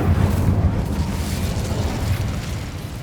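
An Incendio fire spell cast in Hogwarts Legacy, a loud, sustained roaring whoosh of flame with a heavy low rumble that stays steady for several seconds and tapers slightly at the end.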